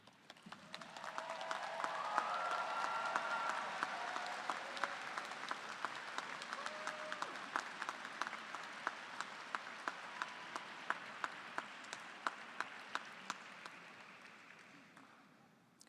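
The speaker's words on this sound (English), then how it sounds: "please acknowledge your family and friends with a hearty round of applause" Sustained, hearty applause from a large commencement crowd at a college of creative arts graduation, swelling over a few seconds, holding steady with distinct individual claps, then slowly tapering off.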